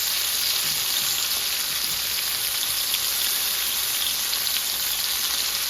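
Food frying in a pan with a steady, close, dense sizzle and crackle throughout, no voices.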